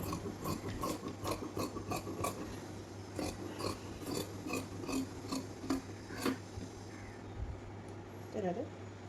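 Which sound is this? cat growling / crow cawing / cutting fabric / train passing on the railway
cutting fabric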